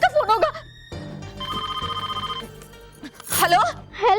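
A telephone rings in a home, a repeated electronic trill running for about a second and a half between bursts of speech, with voices and background music around it.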